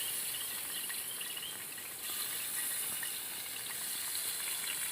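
Chicken pieces sizzle and crackle on a hot tawa pan for a North Karnataka spicy chicken tawa fry, a steady dense hiss with fine popping throughout, close and fairly even in loudness.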